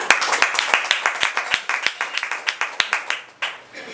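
Sharp, fairly sparse clapping from a small group at a conference, steady claps tapering off toward the end.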